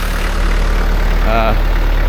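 A farm tractor's engine idles steadily at a low, constant rumble, loud and close, with a brief higher-pitched tone rising over it near the end; no talking.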